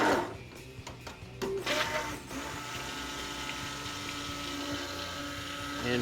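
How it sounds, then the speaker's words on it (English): A stick blender mixing cold process soap batter of lye and oils in a bowl, giving off a steady, close mechanical whir that starts with a few short pulses and then runs continuously. "Then we're going to mix it with the stick blender."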